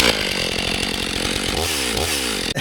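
A 500i chainsaw engine revs loudly and continuously, its pitch rising and falling, running close by with no talking.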